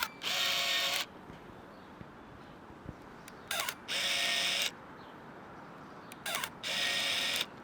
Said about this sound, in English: I like the sound of the shutter.